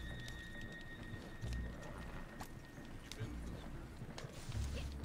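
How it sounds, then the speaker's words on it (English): Donkey hooves clip-clopping close behind in the Red Dead Redemption 2 video game while crossing open plains, a busy irregular trot over rough ground mixed with low rumbling game noise. "still hear the donkey right behind"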